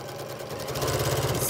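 A sewing machine stitches straight across a three-layer fabric mask, giving a steady mechanical whir that grows louder and busier partway through, alone without talk.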